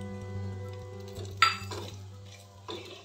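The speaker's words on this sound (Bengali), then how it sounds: "সুজিটা দিয়ে আবার এরকম মিনিট 2 লো হিটে নেড়ে নেব।" Semolina stirred on low heat in warm ghee with chopped coconut in a pan, giving soft scraping and light clinks of the spoon against metal over a steady background hum, with a brief louder knock midway.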